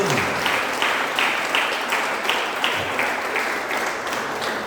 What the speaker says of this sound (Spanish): Eso merece un aplauso, hermano